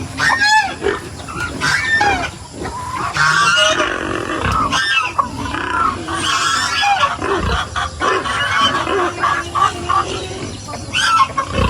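Pigs grunting and squealing on a small farm, several animals close by making repeated loud grunts and higher squeals in irregular bursts.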